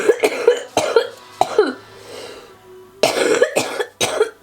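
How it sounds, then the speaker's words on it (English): Repeated harsh coughs come in two close bursts, several rapid hacks each, separated by a wheezy breath and a short quiet pause. "I'm coughing up so much."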